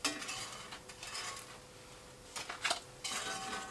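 A plastic fork scraping and picking at cheesy, crispy-bottomed food in a pan inside a wall tent in -34°C cold, soft irregular scrapes and clicks at a low level.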